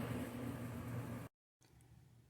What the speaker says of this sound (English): You can hear my air conditioner going in the background